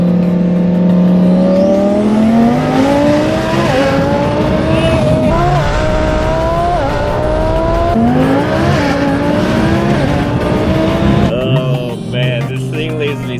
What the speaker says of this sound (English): Oh, here comes the downshift.